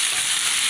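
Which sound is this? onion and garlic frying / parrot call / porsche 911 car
onion and garlic frying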